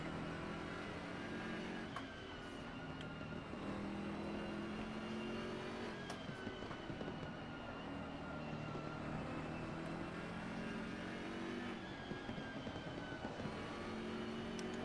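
An Audi GT race car in Assetto Corsa Competizione at Suzuka gives a continuous engine drone with shifting revs, steady and moderately loud throughout.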